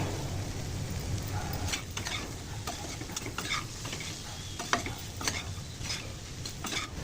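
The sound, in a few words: curry leaves added to frying bobbarlu snack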